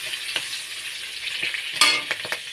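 Green chillies and black cumin seeds fry in hot oil with a steady, bright sizzling hiss, a few louder spits and crackles breaking through near the end.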